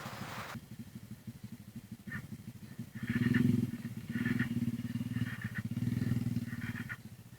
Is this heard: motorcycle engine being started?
yes